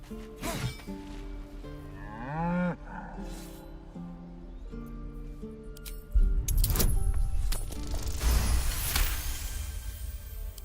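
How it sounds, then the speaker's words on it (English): An ox in Baldur's Gate 3 gives a long, wavering moo, close and clear, followed by a second burst of lowing amid game ambience and clatter. "I'd swear that ox's gaze is following me."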